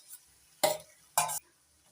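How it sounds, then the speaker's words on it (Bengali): Cabbage paste drops into a pan of cooked-down, melted tomato, giving two short, close sizzling scrapes about half a second apart, with near silence around them. "এবার দিয়ে দিচ্ছি পেস্ট করে নেওয়া বাঁধাকপি।"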